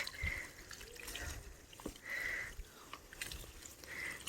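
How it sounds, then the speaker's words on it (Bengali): Water poured onto dragon fruit plants in a home garden makes a soft, steady trickle and splash that swells and eases in several waves, faint and close, with no speech. "ড্রাগন গাছগুলো একটু জম্পেস করে জল দিয়ে ভিজিয়ে দিই"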